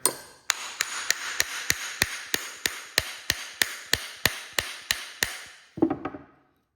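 A hammer pounds a badly bent bearing washer on a Cub Cadet 50c mower deck: about fifteen sharp, ringing metal blows at a steady, even pace, close and loud, ending in a brief jumbled clatter of metal.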